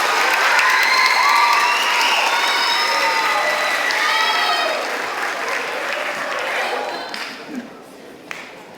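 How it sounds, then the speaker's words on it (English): A middle school concert audience in a school hall claps and cheers for the student soloists, a loud burst with whoops and children's voices that gradually thins to scattered claps and fades out. "Let's have one more round of applause for our soloists,"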